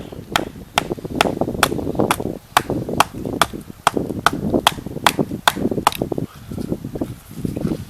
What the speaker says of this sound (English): hammer this stick into the ground